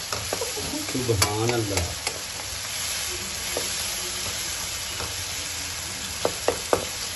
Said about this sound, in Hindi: इसकी अच्छी तरह बुनाई कर लें। 5 से 7 मिनट इसकी बुनाई कर लेंगे इसको